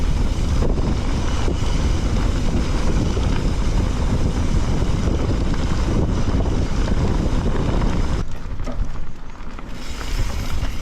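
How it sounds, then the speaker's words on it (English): Strong wind buffets the microphone in a loud, continuous rushing roar while riding a rocky trail in the Peak District at Ladybower, easing briefly near the end before gusting back. "It is really windy."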